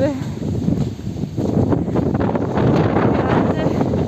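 Strong wind buffets the microphone outdoors on a mild day, a steady broadband roar with gusts throughout, with a voice speaking under it.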